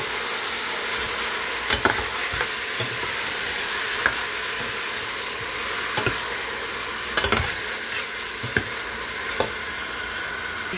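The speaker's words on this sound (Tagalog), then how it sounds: "pagluluto po ng kanyang sinigang" Pork sinigang cooking in a pot, a steady sizzle and bubbling with occasional sharp knocks and scrapes of a spoon being stirred against the pot.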